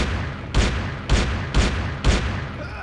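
Four evenly spaced, loud gunshots ring out about half a second apart in the Delta Force Land Warrior shooter, each a sharp broadband crack with a short tail over a steady background hum.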